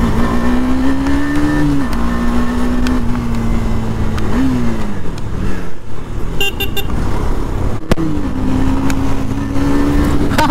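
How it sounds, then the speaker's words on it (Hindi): A KTM Duke motorcycle engine while riding gives a loud, close, steady drone, its pitch dipping and rising with shifts in throttle, with a brief drop in the middle before the hum resumes. "ड्यूक बाइक में पहली बार चला रहा हूँ"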